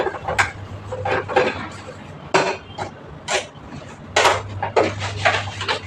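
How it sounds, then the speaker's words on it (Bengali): Dishes and pans are scrubbed with Vim dishwashing liquid, giving repeated clattering knocks and scraping rubs of metal utensils, close and fairly loud, in an irregular rhythm. "আমি ভিম লিকুইড দিয়ে সব বাসন মাজি"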